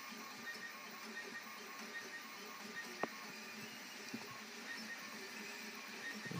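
A 3D printer laying down white PLA, a faint steady mechanical whir with soft stepper-motor tones and occasional small clicks, quiet and continuous in a room.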